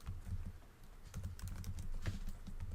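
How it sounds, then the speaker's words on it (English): A computer keyboard is typed on steadily while an email address is entered into a sign-up form for a free local business network site: a close, continuous patter of light keystrokes that runs throughout with no voices. "So go ahead and type in your email."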